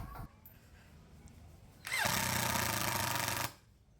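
A Mollar CIDR12150 cordless impact driver drives a screw into meranti wood, a single loud, close burst of rapid hammering rattle lasting about a second and a half before cutting off.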